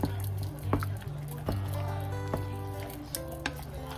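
Italian seasoning being stirred into a tomato sauce in a pot, with soft wet squishing and a few spoon knocks against the pot over a low background hum, close and fairly quiet.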